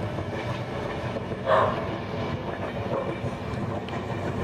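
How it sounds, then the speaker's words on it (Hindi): WDP4D diesel locomotive hauling the Dibrugarh Rajdhani Express at full throttle in Indian Train Simulator, with a continuous rumbling engine drone, rhythmic wheel clatter and a brief louder swell partway through. "अभी तो पूरी थ्रॉटल पावर दे देते हैं राजधानी एक्सप्रेस को I mean W D P four D को"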